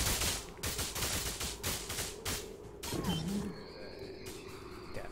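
Rapid automatic gunfire rattles out in Age of Wonders Planetfall during a battle with robots, followed by mechanical whirs and a rising electronic tone.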